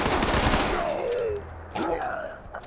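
Gunfire from a shotgun in Fallout 76, with a dense burst of shots and clatter at the start. It then falls back to quieter game effects and rumbling ambience.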